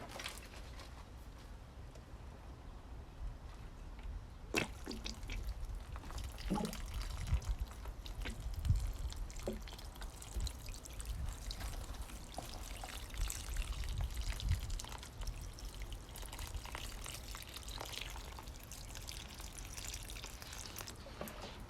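Water pours and trickles steadily into soil and a potted tomato plant, with scattered splashes and drips over a long, continuous stretch.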